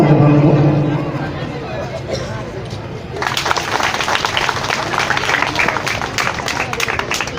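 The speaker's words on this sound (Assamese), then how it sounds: "হাত চাপৰিৰে সহযোগ কৰিলে ভাল হ'ব" A crowd at an evening cultural programme in Rakhaldubi breaks into sustained applause midway, dense clapping mixed with audience chatter that continues steadily after a quieter opening of voices.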